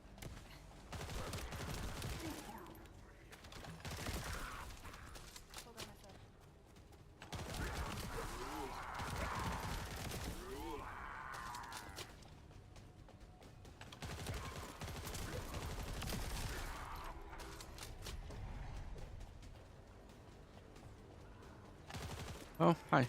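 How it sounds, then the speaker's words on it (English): Enemy gunfire in a loot shooter video game comes in repeated bursts of shots and rattling volleys, separated by brief lulls, with game voices and sounds running alongside. "Somebody is shooting me from behind."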